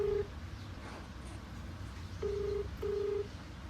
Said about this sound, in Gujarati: અત્યારે ફોન કરું અને તમને સંભળાવું